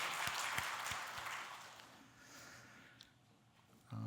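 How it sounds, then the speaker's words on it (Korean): A church congregation applauds together in worship, a broad wash of clapping near the start that gradually thins and softens before fading out. "하나님께 영광의 박수 한번 올려드리도록 하겠습니다"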